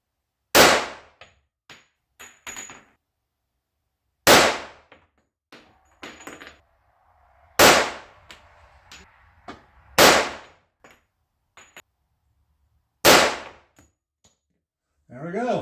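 Five sharp, loud pistol shots from a custom Colt 1911 chambered in .45 ACP, fired singly at uneven intervals of two to three seconds, with quiet gaps and faint clinks between them.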